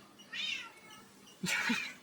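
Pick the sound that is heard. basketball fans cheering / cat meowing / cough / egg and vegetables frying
cat meowing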